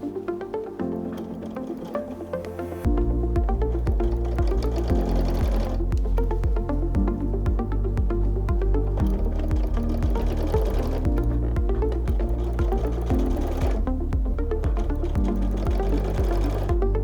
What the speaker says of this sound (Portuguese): usando como guia a parte sobressalente do pezinho e fazer a última costura da peça.